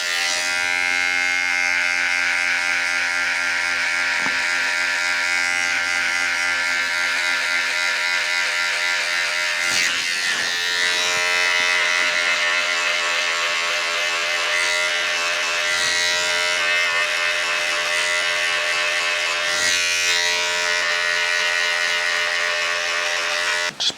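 Electric hair clippers with a 1 guard fully open run continuously while cutting a low fade, a steady close buzzing hum with slight shifts in tone as they move through the hair.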